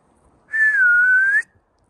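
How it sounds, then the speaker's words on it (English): A single sustained whistle to call dogs, steady and slightly wavering in pitch, lasting about a second, loud and clear against a quiet background. "I know I only learned how to whistle this year."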